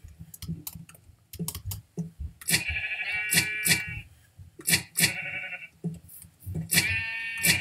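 Sheep in Minecraft giving several short, nasal bleats in bursts, mixed with sharp clicks, fairly loud and close, with no voices.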